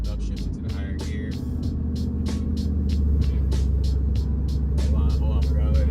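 Ford F150 pickup truck with an On3 single turbo engine accelerating while driving and shifting up a gear, a loud, steady low drone inside the cab with someone talking over it.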